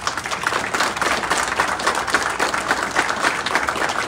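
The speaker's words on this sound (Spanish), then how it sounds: "Aplauso!" Wedding guests applaud the newlyweds with steady, dense clapping that fills the room, loud and continuous throughout.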